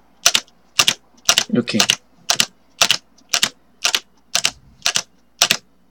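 Keys on a computer keyboard are pressed in a steady rhythm during a Special Force match, about a dozen loud, crisp clacks at even intervals. A brief spoken word interrupts the tapping early on.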